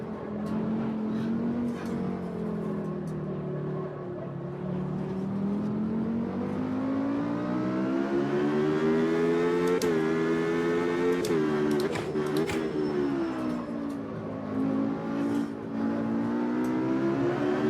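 Race car engine in the Automobilista 2 sim racing game, a sustained harmonic drone that rises and falls steadily with shifts and revs, fairly quiet and continuous throughout.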